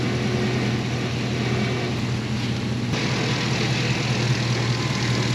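A 1955 Chevy truck with a swapped LS V8 and Hooker exhaust manifolds idles steadily, a smooth, even low rumble with a constant hum, close and continuous with no talking.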